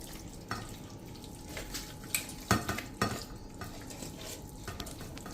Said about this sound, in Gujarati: તો આ રીતે આપણે બધા મસાલા લાલ મરચું પાવડર મિક્સ કરી લીધું છે.